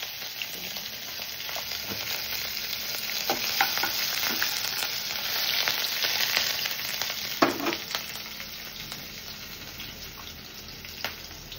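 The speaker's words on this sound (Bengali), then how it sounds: "এইদিকে তেল গরম হয়ে গেছে, ফোড়ন দিয়ে নেব। তেলে দেবো শুকনো লঙ্কা, গোটা জিরে" Dry red chillies and whole cumin crackle and sizzle in hot oil for several seconds, a steady close frying hiss broken by occasional pops and a sharper clatter.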